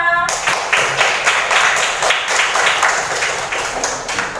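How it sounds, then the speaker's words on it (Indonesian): A group of schoolchildren claps together in a lively, rhythmic pattern of close, loud beats, briefly preceded by a voice. "Tepuk tangan untuk anak-anak semua."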